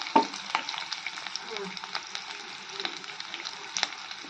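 Onions or spices frying and being stirred in a pan for Andhra tomato tamarind rasam, a steady soft sizzle broken by scattered scraping clicks of the spoon, close and alone.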